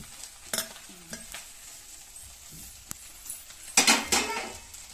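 Mint and coriander leaves stirred in a hot pan for chutney, giving soft sizzling with scraping and clinking of a utensil against the pan, louder bursts of stirring near the end, no talking.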